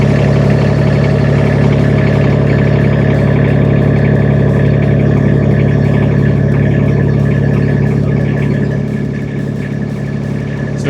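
Rippa RS06 or RS04 mini skid steer engine running steadily at idle, a close, loud and even mechanical drone that holds throughout and eases slightly near the end, with no voices.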